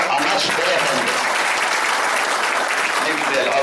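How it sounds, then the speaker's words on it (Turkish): Dense applause from an outdoor crowd gathered on a hillside at a memorial event in İskilip, steady and loud throughout with no breaks. "Alkışlarla doldu yamaç burada."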